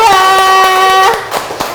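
A classroom of students applauds for group 2, a brief burst of rhythmic hand claps with a sustained tonal sound running beneath, then fading as it ends.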